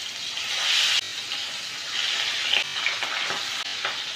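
Fish sizzling as it is laid piece by piece into smoking-hot oil in a kadai: a steady, close, bright crackling hiss that swells and settles with small bursts, with no talking.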